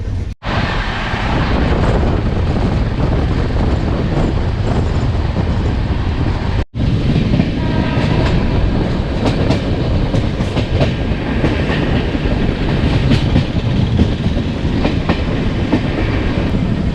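An AC double-decker train running from Bangalore to Chennai gives off a loud, steady rumble with clickety-clack rail noise and wind buffeting. The sound cuts out sharply twice.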